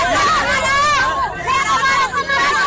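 A crowd of onlookers gathers on a Delhi street, their steady babble of overlapping voices close and loud throughout, with no single speaker standing out.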